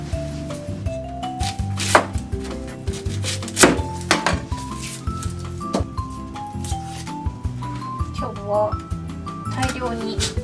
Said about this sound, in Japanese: くし切りにしていきます。